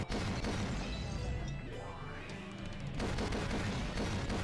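Dense rapid gunfire rattles through a shootout in the visual novel Rose Guns Days, loud and continuous, with a brief lull in the middle before the shots surge back in.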